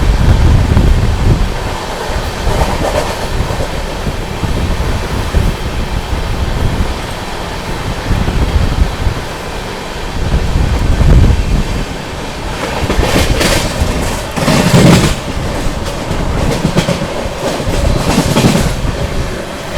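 The Tamil Nadu Superfast Express 12621 runs at high speed while overtaking another train, giving loud, continuous rumbling with rhythmic wheel clatter and bursts of passing-train rush heard close from inside the coach.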